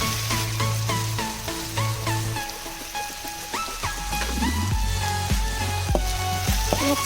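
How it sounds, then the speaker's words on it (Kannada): Onions sizzle steadily as they fry in a pan, a continuous crackling hiss heard alone and close, with occasional clinks and some background music. "ಸ್ವಲ್ಪ ಕಂದು ಬಣ್ಣಕ್ಕೆ ಬರಬೇಕು ಈರುಳ್ಳಿ ಎಲ್ಲ ಚೆನ್ನಾಗಿ ಫ್ರೈ ಮಾಡಿ"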